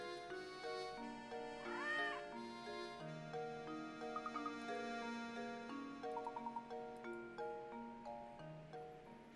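A cartoon cat in Professor Layton and the Curious Village gives a short rising meow over gentle looping game music, with small ticking chimes coming and going.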